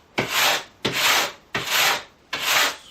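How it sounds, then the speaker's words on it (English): A wire brush scrubbing a dirty chainsaw chain laid on a bench, in four steady back-and-forth strokes with short pauses between, close and fairly loud, with no talking. "scrub down the chain."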